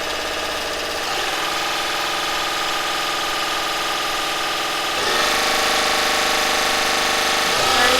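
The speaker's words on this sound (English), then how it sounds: "I really can't believe how loud this is with no bottom end." A car engine with no bottom end fitted, no pistons or crank, runs at about 1,000 RPM, giving a loud, steady mechanical clatter and hum with abrupt level jumps at a few points.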